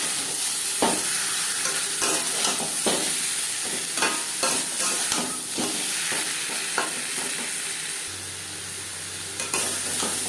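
Hog plum chutney frying in a pan with turmeric and salt, a steady close sizzle broken by repeated scraping stirs and clinks of a spatula, with no voices.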